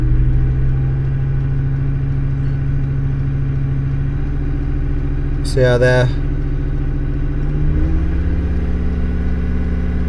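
A 1996 Volvo 850 2.5 TDI diesel with a D5252T engine, Bosch VE EDC pump and a rough idle, revving up from a steady drone to a louder rise near the end, with a brief spoken remark midway.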